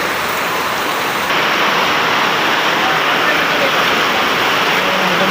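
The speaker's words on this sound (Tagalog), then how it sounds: "Sobrang lakas ng ulan." Heavy rain pours down around a house in a steady, dense hiss with no pauses, loud and close, growing slightly stronger partway through, with no one talking.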